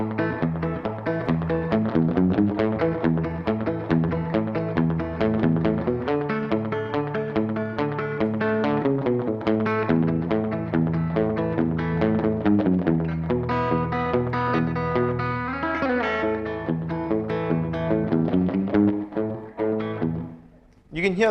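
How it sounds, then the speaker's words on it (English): A guitar played through a Boss DD3 delay pedal in medium mode, set to a very short delay so the notes smear into a reverb-like wash; continuous picked chords and single notes ring out loud and alone. "It's even shorter delays. It's just like a reverb now."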